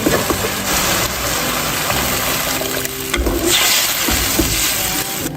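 Water pours steadily into a hot pot of stir-fried egg and scallions, a continuous rushing splash with a sizzling hiss underneath, loud and close throughout.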